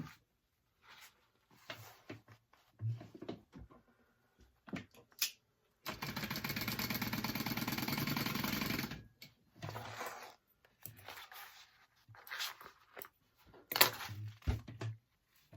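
A sewing machine stitches a corner seam on a teddy backpack in one sustained run of a few seconds, a steady mechanical whir, with quiet handling clicks and rustles before and after.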